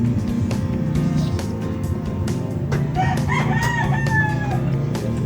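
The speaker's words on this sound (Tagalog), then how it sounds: "marami na talawak ng manok." A rooster crows partway through, its drawn-out call rising over a busy background of engine hum and scattered knocks, during sliding window installation work.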